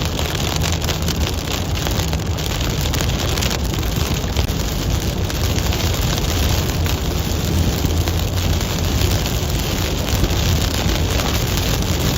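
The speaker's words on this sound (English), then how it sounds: "Pockets of rain here and there." Steady broadband rush of rain and road noise inside a moving vehicle during a storm chase in South Dakota, with wind buffeting; no talk.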